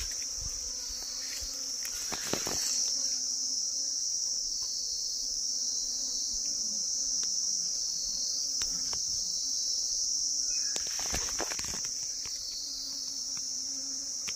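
Honeybees in an opened hive make a steady, dense buzzing drone that runs throughout. Occasional handling knocks and brief rustles come from working the colony.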